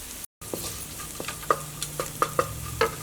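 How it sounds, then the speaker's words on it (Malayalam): Sliced onions sautéing in a pan, a soft continuous sizzle broken by a series of light spatula scrapes and taps as they are stirred, with no talking. "അപ്പോൾ സവോളയ്ക്ക് നന്നായിട്ട് വഴന്ന് വന്നിട്ടുണ്ട്"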